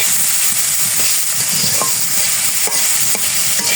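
Green papaya stir-fries in oil with turmeric powder, chili powder and green chilies, giving a loud, steady sizzle broken by scraping clicks of the spatula, with no voices.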